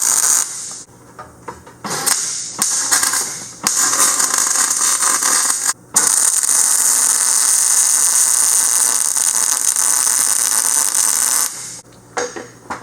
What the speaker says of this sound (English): I'm about to weld this to the beam right here